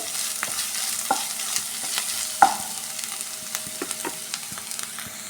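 Chicken for Apollo chicken curry sizzles in a pan while a spatula stirs it, with regular scraping clicks and one sharper knock over a continuous, moderate frying hiss; no voices.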